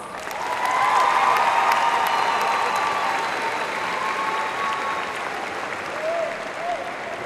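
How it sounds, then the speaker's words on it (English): Graduation audience applauding teachers, staff members and guests at a high school ceremony: sustained, full crowd clapping from a large room that swells in and holds steady, with some cheering mixed in. "Please join me in giving these wonderful teachers, staff members, and guests a hearty round of applause."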